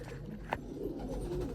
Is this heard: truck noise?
no